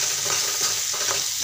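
Moth bean curry being mixed in a pan, a brief close burst of stirring scrapes over a steady sizzling hiss.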